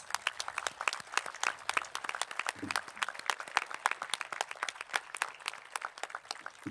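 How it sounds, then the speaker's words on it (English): Steady applause from a high school graduation crowd, many hands clapping densely and continuously at moderate loudness with no voices standing out. "Seniors, please stand with me and applaud our parents and families"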